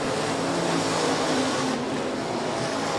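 USRA Hobby Stock race cars roaring around a dirt speedway during a heat race, a continuous loud wash of engines blending into a dense, steady roar.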